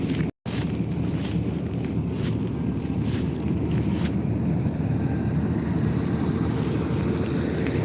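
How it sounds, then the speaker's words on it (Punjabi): A combine harvester makes its first pass through a wheat field with a continuous low, droning engine rumble, steady and fairly loud, plus wind noise across the microphone. "ਕਣਕ ਦੀ ਵਾਢੀ ਸ਼ੁਰੂ ਕਰਤੀ ਹੈ ਬਾਈ ਜੀ ਆ ਦੇਖ ਸਕਦੇ ਹੋ ਬਾਈ ਜੀ ਆਪਣੇ ਖੇਤ ਦੇ ਵਿੱਚ ਮਸ਼ੀਨ ਨੇ ਜਿਹੜਾ ਪਹਿਲਾ ਗੇੜਾ ਲਾਤਾ ਹੈ"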